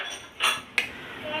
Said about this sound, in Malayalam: ആഡിനെ കൊണ്ട് അവിടെ ബൗൾസ് കഴുകുകയാണ്